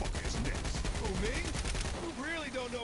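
Bursts of Saints Row IV gunfire rattle loudly through a short stretch of combat, layered with in-game voices and a player talking.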